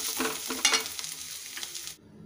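Spinach curry is stirred in a pan, a spoon scraping through the thick sizzling mix in steady strokes that are close and fairly loud, then stop abruptly near the end. No one talks.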